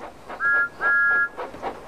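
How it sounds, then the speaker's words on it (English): Thomas the Tank Engine's steam whistle sounds two sustained, piercing blasts, the second longer, with a short pause between them. "It's one of our favorite sounds on the island of Sodor. It's Thomas"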